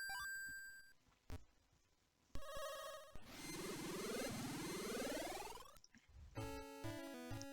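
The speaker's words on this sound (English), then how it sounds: "Sorry for the beeping, it's gonna be over soon" Zelda: Oracle of Ages plays busy electronic game sounds: bursts of repeated beeping, bright chimes and a long rising sweep of tones, closely spaced and without any talk.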